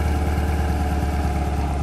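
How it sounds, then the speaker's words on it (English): A 2020 Corvette V8 with quad exhaust rumbles steadily at a low, throbbing idle, close and fairly loud for under two seconds, with no talk. "quad exhaust"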